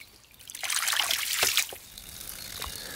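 Water gushing and trickling from a freshly opened valve on a homemade ram pump, swelling to a strong splashing rush for about a second before settling to a softer steady flow, with no talk.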